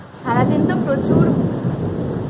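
Afternoon rain with thunder in a rural mango-growing area: a deep rumble of thunder rolls in and swells over a steady hiss of rain, fairly loud and sustained, with a voice briefly audible at the start.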